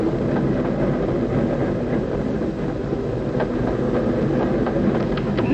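A moving train with railroad cars clattering steadily, a dense continuous rumble with clickety-clack rhythm and occasional metallic rattles, close and loud throughout with no talk.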